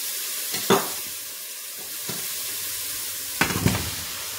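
Pureed onion, oil and pureed garlic sizzle softly in a 24-centimetre pot, a steady frying hiss broken by a few louder stirring scrapes.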